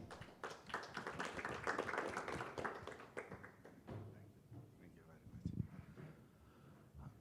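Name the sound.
applause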